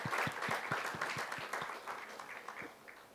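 Audience applause for a curriculum team at a conference fills the whole stretch, with dense, steady clapping from a crowd, fairly close and even, slowly easing off toward the end.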